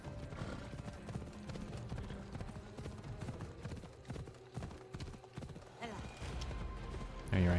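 A horse gallops in the Assassin's Creed video game with rapid, continuous clip-clop hoofbeats and an occasional neigh, under game music and a voice talking, and the sound swells louder at the very end.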